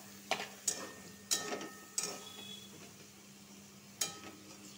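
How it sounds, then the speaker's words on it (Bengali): Pointed gourd and ridge gourd being stirred into chili and raw peanut paste in a pan, giving a handful of sharp scraping clatters over a soft, quiet sizzle. "ভালো করে লাড়াচাড়া করে নিব।"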